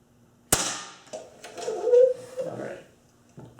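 A Ruger Mark 1 pellet pistol fires one sharp, close crack, followed by someone talking.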